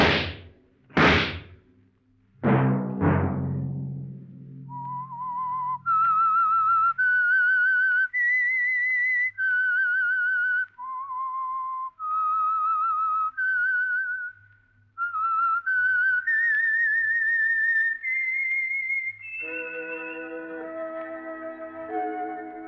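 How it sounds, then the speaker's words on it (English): A solo whistled signature tune for the radio mystery program The Whistler, opening with a few sharp attacks, then a clear sustained melody of held and gliding notes, loud and alone, ending in a fuller chord. "Let that whistle be your signal for the Signal Oil program, The Whistler"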